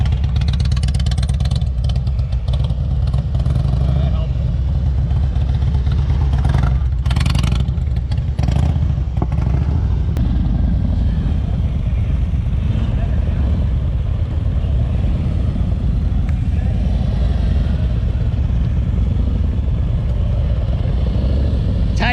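Motorcycle engine idling and burbling steadily as the bike rides slowly in tight circles, a constant low rumble with light clatter throughout, close and continuous.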